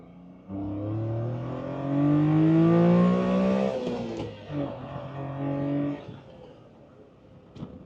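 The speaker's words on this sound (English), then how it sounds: "That's a little taste of what the car sounds like." A Honda Beat kei car engine revs up, holds a high whine, then drops and blips again a few times before settling, heard close up.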